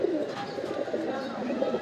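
Racing pigeons at a rooftop loft coo softly and continuously as birds return from a 61-kilometre tournament race, a close, low, rolling murmur with no talk.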